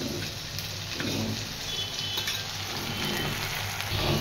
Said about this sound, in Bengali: এই দেখো পেঁয়াজের পর আদা আর টমেটোটা দিয়ে দিয়েছি, এটা ভাজা ভাজা হয়ে গেলে তারপরে এই মশলাটা দিয়ে দেবো